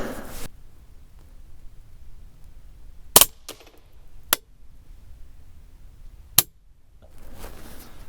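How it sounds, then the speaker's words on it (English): A rifle topped with an Arken EPL-4 4-16x44 scope fires at a target outdoors, with three or four sharp, loud single shots spaced irregularly across a quiet background and faint handling noise between them. "I'm just gonna go ahead and fire the rest of this magazine into the target there."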